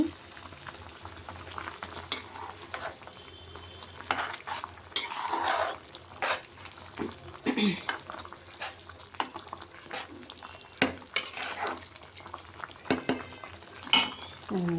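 An egg curry with ginger bubbles and sizzles in a pot on the stove, with intermittent metallic clinks and scrapes from stirring rising over a constant low simmer.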